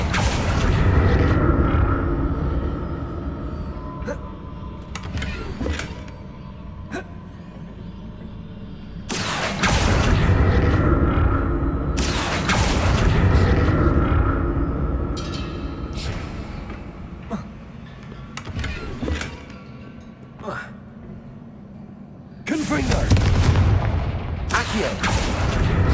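Spell explosions in the Hogwarts Legacy video game come as repeated heavy booming blasts in loud clusters separated by quieter stretches of rumbling game ambience.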